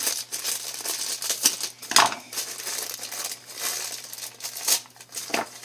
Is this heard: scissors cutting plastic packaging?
yes